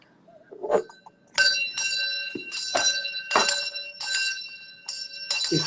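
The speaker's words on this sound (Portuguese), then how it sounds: "Isso me lembra muito o seminário, esse sino." A bell rung repeatedly, with about eight bright metallic strikes at a roughly regular pace, each leaving a long ringing tone that overlaps the next, loud and close with no talking.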